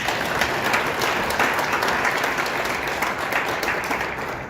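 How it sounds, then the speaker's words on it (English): An audience at a morning show gives a loud, sustained round of applause that carries evenly from start to finish without a break. "Let's give her a round of applause."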